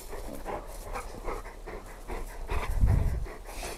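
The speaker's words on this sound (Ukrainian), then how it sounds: "Хороші собаки." Several dogs sitting on gravel pant rapidly and close up in quick rhythmic breaths, with a soft whimper and a louder thump of movement near the end.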